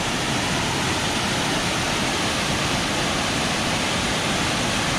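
Rushing water from a waterfall on a forest trail, a loud, steady broadband roar that fills the whole clip without change.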